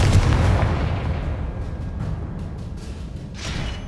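A Confringo fire spell detonates with a loud, booming burst in a Hogwarts Legacy battle, the blast rolling on into a dense rumble with further crackling impacts near the end.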